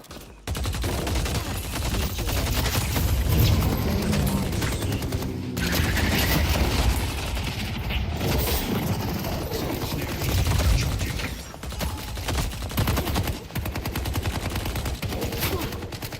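Sustained gunfire from the Deadlock video game: dense, rapid shots in continuous bursts with brief pauses, loud and close throughout.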